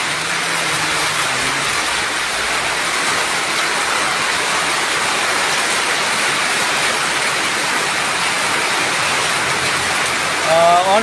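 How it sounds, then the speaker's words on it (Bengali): Heavy monsoon rain pounds a tin roof overhead in a dense, steady roar that holds for the whole stretch, loud and close. "প্রচুর বৃষ্টি চলে আসছে।"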